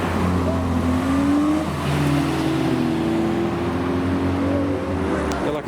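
A tuner car's engine revs and drones at a Japanese-car meet in Reading, a loud continuous note rising and falling over outdoor rumble, with a faint voice in the background.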